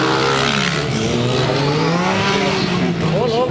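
Motorcycles rev loudly nearby at a wheelie event in Mogi Guaçu, engines wavering up and down in a dense continuous roar with a rising whine near the end.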